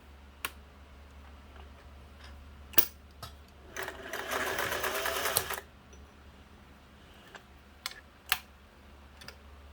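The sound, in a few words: Singer 401a sewing machine running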